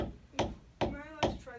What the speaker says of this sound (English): when you're hammering, just be careful you don't punch right through the leather